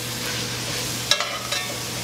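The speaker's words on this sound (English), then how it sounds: "Let's start stirring that around a little bit." Diced celery and other vegetables sauté in a pan with a soft steady sizzle, and a spoon scrapes and clicks a few times as the mix is stirred, close up.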